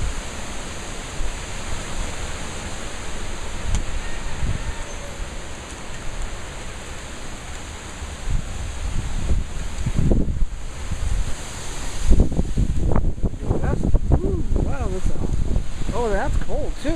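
Strong wind gusts roar continuously through trees during a wind storm in Lincoln, Nebraska, a dense broadband rush buffeting the microphone, with a voice talking over it near the end.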